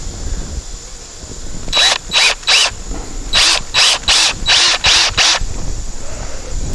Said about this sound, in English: I'm going to put these lag bolts through it.